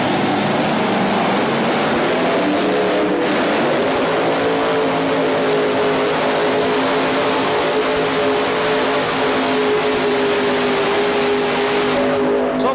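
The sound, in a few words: tractor engine revving in tractor pull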